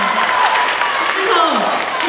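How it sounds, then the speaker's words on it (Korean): An audience at a student mentoring workshop claps steadily throughout, a dense wash of applause over a room's ambience. "박수!"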